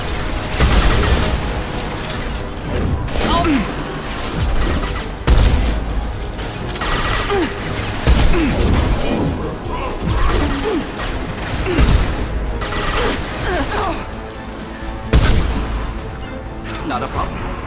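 Video game gunfire in Mass Effect 2 during a combat mission: repeated bursts of shots and impacts with mechanical clatter, recurring in loud clusters, with voices speaking between them.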